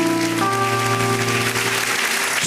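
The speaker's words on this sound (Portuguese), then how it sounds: "Dê uma salva de palmas que os teus sonhos estão no propósito de Deus." A church congregation claps together in a busy, rain-like patter over sustained organ or keyboard tones, ending with a brief swell at the very end.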